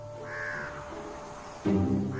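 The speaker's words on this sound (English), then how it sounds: "Crows will mob the eagles relentlessly." Crows caw a few times, one call then a louder, harsher caw nearby, over quiet outdoor background.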